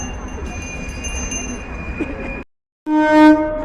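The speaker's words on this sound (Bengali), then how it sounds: "ওই দেখ ট্রেনটা চলে যাচ্ছে" Rumbling train noise with rattling wheels, cut by a brief silence, then returning with a bright tonal hum; voices murmur faintly beneath.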